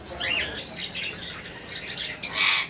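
Pigeons in a loft setup, a pair nesting in clay pots, give brief raspy squawking calls close by, with a sharper call near the end.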